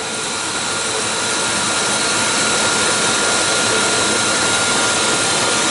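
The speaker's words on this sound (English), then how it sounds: "And this is the waxing device." A YFM-M34LT automatic metal chain zipper waxing and lacquering machine runs with a steady, loud, even mechanical whir and hiss, unbroken and without speech.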